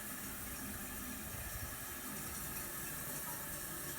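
A fidget spinner dipped into water, producing a steady close watery wash and trickle with a faint hiss, continuous and without talk.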